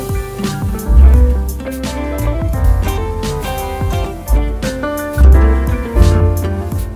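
Busy video game soundtrack from a Steam game with a heavy bass line, driving drums and layered melodic parts, loud and continuous with no voices over it.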